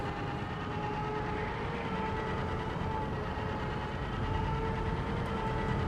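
A tram in the Star Wars: The Old Republic video game, a steady loud rumbling ride with a low engine drone and faint whining tones, continuous throughout.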